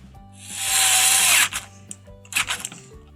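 A power drill drives screws back into a PVC window lock, with one loud whirring run that winds down, then short bursts and clicks of the drill close by.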